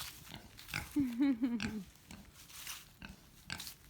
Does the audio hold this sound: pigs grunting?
yes